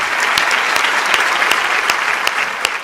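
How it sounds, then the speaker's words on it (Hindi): Dense, steady applause from an audience at a Hindi kavi sammelan poetry event in Kanpur, loud and close, with sharp individual claps standing out over the continuous wash of hands and no speech. "और ताली अभी भी कमजोर है आपकी।"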